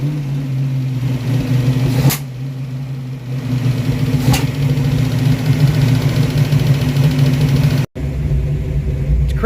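A Ford Mustang project car's engine idles steadily and loudly with a continuous low rumble, broken by a couple of brief sharp clicks and a momentary dropout near the end.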